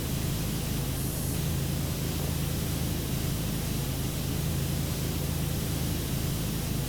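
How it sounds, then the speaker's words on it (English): A pressure washer in the video game PowerWash Simulator sprays in a continuous broad hiss with a low motor drone beneath, steady and unbroken for the whole stretch, with no talking. "Spraying away."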